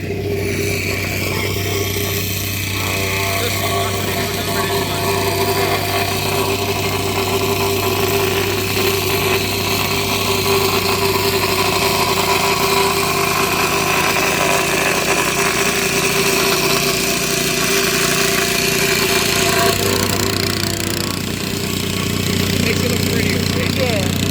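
A small road resurfacing machine's engine runs steadily at a road maintenance site, a loud continuous mid-pitched drone with a constant hum throughout, with speech heard in the background.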